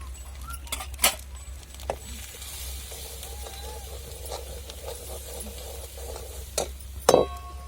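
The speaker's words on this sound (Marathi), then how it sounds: "आता हळद टाकायची त्याच्यामुळे थोडीशी आणि मसाले ग्रेव्ही मध्ये परतून घ्यायचे चांगले" A spice masala with turmeric is stirred into a potato curry gravy, making faint sizzling under a steady low hum, with a few sharp clinks of a spoon against the pot; quiet and intermittent.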